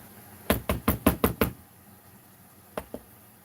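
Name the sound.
sand knocking inside a tire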